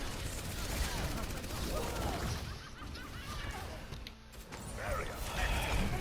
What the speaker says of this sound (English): Turret is once again denying you guys